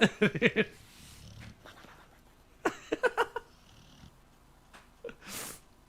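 An angry cat lets out short bursts of harsh yowling and growling cries in two clusters, with quiet gaps between them and a final sharp hiss-like burst.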